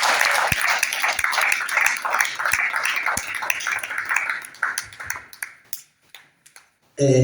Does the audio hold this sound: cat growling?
no